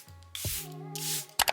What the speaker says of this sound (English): I'm gonna use my spray again.